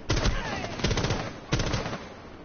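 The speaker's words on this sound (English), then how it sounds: "Now you find hostiles shooting at you." Rapid automatic gunfire from hostiles in Rainbow Six Siege, two loud close bursts of shots separated by a brief pause.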